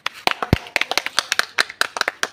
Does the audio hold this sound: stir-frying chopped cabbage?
no